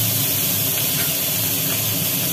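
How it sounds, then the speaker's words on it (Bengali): Onion paste hits hot oil spiced with garam masala, bay leaves, dried red chillies and cumin, bursting into a loud, dense, close hiss that holds steady. "এবার পড়লো"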